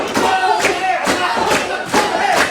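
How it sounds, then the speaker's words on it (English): A tag team wrestling event crowd roars in rhythmic bursts, loud and close, with repeated swelling shouts and chants cycling about every half second to second. "Johnny Franco got this crowd reeling. They're into it."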